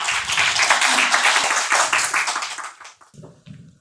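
A lecture hall audience at a statistics academy event applauds the arriving speaker, a broad dense wash of many hands clapping for about three seconds before fading into quieter room sound.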